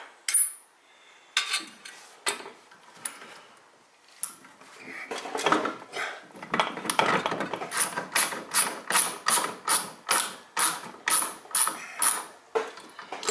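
Ratchet wrench loosening a bolt on the rear wheel hub of a 2004 Toyota Highlander, with rapid repeated metallic clicks in a steady rhythm toward the end, close and fairly clear, no talking.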